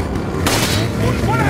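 Loud video game gunfire: a burst of shots erupts mid-clip over steady game background noise, with a voice talking.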